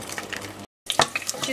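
Food frying in a hot pan in a home kitchen, with a steady crackling sizzle broken by a brief cut to silence, then louder spitting pops.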